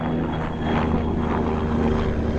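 A steady, droning helicopter engine with a rumbling rotor hum from a titanium rotor head and four glass fibre composite blades, loud and continuous throughout, at an air festival.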